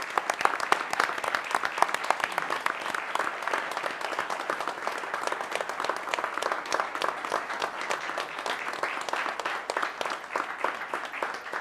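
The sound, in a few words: round of applause at a county commission meeting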